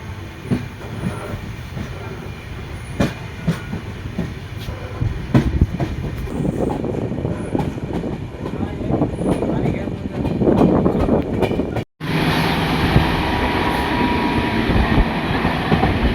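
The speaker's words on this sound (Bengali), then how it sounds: "তো বন্ধুরা, আমাদের ট্রেন এখন তিস্তা নদীর উপরে দিয়ে যাবে।" An Uttarbanga Express train rolls along the rails toward the Teesta river, a steady loud rumble with faint clicks, joined near the end by a sudden brighter, louder roar after a brief drop-out.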